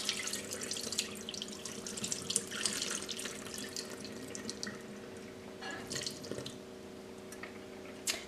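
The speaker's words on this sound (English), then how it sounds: "After soaking the pollock fillets for 1 hour in the refrigerator, let's drain the water." Soaking water drains from salt cod pollock fillets into a sink, a steady close splashing and trickling flow with drips throughout.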